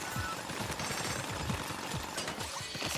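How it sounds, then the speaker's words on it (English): A drill rattles in the Splatoon Raiders video game, a continuous fast rapid-fire hammering, loud and steady throughout. "Get to drilling!"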